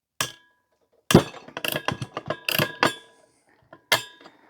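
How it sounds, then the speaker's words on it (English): Socket wrench working a big end bolt on a 170cc four-stroke Victa lawnmower engine: sharp metallic clicks and clanks in irregular bursts, close and alone, with quiet gaps between. "we can just get a socket in there to undo the big end bolt"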